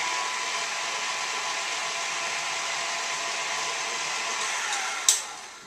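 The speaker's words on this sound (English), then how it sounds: "I'm going to turn my mixer on low with the dough hook" A stand mixer with a dough hook runs on low, giving a steady, continuous motor whir with an even, unbroken drone, a brief sharp clink near the end, then tapering slightly.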